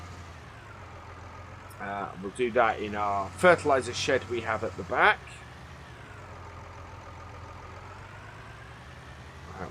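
A tractor engine idles steadily in Farming Simulator 19, a low constant rumble running through the whole stretch while someone talks over it for a few seconds in the middle.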